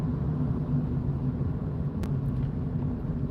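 Steady, close engine rumble from inside a car driving through town roads toward Wigan, its engine running rough, droning evenly throughout with no talk.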